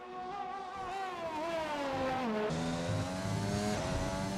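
A race car engine in a sim racing game screams close up through a hot lap on an Australian circuit, pitch climbing and dropping sharply with gear changes, then rising again, loud and steady with no talk.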